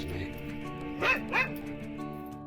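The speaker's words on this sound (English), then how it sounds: "the prison dog, aka Poochie, survived on the Isla de Pelagostos" The prison dog from a Pirates of the Caribbean film gives two quick yipping barks close together over a steady background of music and ambience.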